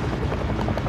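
A helicopter in Call of Duty: Warzone gives a dense, loud rotor throb and whine, heard alone for under a second.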